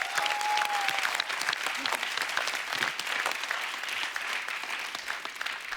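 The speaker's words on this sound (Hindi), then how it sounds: "एक बार जोरदार तालियां होनी चाहिए।" Studio audience applause on a Hindi comedy talk show, a dense, steady wash of clapping that fills the whole stretch at full strength with no voices over it.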